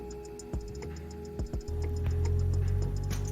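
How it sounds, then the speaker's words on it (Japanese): A 12V cooler runs off an inverter with its fan speed turned down. A few sharp clicks are followed by a steady low hum and whir that starts up partway through and continues close by. "今インバーターが回っている状態なので少し音量が大きめです"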